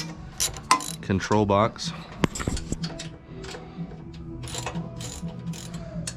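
A 3/8 socket wrench with an extension and deep 7/16 socket ratchets to loosen U-bolts on a Brunswick bowling pinsetter, giving close bursts of quick clicking between pauses, with someone speaking briefly.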